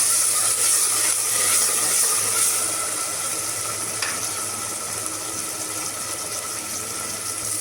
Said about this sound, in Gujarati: ટમેટું નાખીને આપણી વાલોળ ફોલેલી છે તે નાખીશું અને તેને 2 મિનિટ માટે સાતળશું.